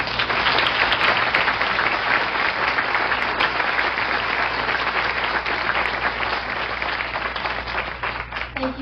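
An audience at a panel presentation applauds with steady, dense clapping that holds evenly for about nine seconds.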